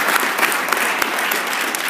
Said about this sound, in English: Clap for me, would you?